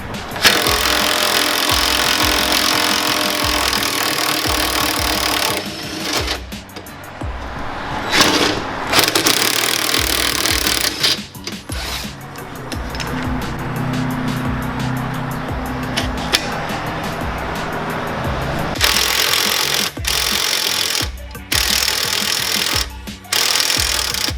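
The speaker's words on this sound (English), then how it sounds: "we'll go ahead and remove the trailing arm so we can access the lower control arm bolt." A power tool works a stubborn trailing arm bolt on a 2017 Camaro SS 1LE during a lowering spring install. Loud, sustained rattling bursts break off in short pauses, then resume close by.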